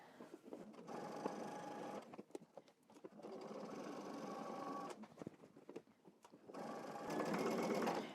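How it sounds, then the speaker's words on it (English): A sewing machine stitches in the ditch along a garment waistband seam from a Simplicity pattern, running in several steady bursts with short pauses between, close and fairly quiet, with no talking. "You're going to continue stitching in the ditch until you reach the other end."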